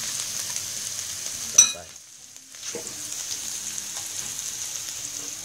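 Giant catfish meat stir-fries with curry paste in a hot pan, giving a loud, close sizzle. A sharp utensil clank cuts in, the frying briefly drops away, then the hiss returns steadily.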